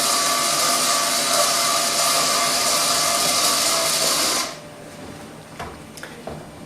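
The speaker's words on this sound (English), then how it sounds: "Then mind that the actuator now is moving by using the DPS." BSR actuator driven by a DPS, a loud steady electric whirring drone that cuts off abruptly partway through, followed by faint clicks and light handling noise.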